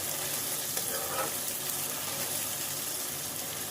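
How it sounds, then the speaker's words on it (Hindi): Salted tomatoes sauté in a pan for a spicy roast chicken dish, giving a dense, even hiss of frying that holds steady throughout, close by, with a brief faint stirring rustle and no speech. "टमाटर हमारे गल जाएं इसको इसलिए 2 से 3 मिनट तक हमें अच्छी तरीके से भूनना है"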